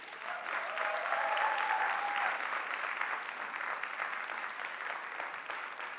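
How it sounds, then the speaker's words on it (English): An audience at a researchers' Grand Prix awards event applauds a winner, sustained, even clapping across the whole stretch with a faint whistle-like tone early on. "can you applaud her once again"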